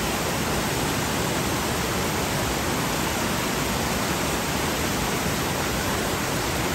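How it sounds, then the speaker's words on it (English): A waterfall at Barotac Viejo, Iloilo, Philippines, pouring as a dense, unbroken roar that fills the scene at close range, loud and constant throughout with no voices over it. "But this is the waterfall."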